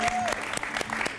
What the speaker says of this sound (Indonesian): Tepukkan sikit.